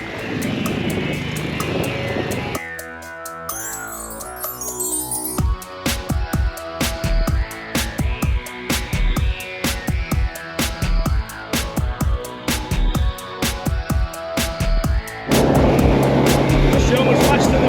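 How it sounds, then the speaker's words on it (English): A small boat's 15 horsepower outboard motor drones loud and close at sea, its note rising and falling under the rush of wind and water, with bursts of choppy thumping as the hull slaps waves. "you got a 15 horsepower on the back there"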